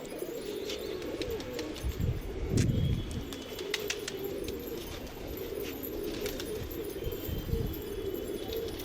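Pigeons coo repeatedly at a loft while a voice calls out softly, with low, steady cooing running throughout and occasional faint chirps and light metallic clinks.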